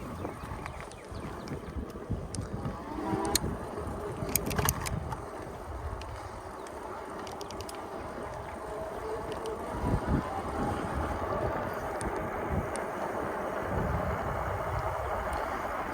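Outdoor ride on a Bafang-motor e-bike along a rails-to-trails path in Columbus, Georgia, dominated by steady buffeting wind noise over the microphone with faint rattles and road rumble throughout; no speech.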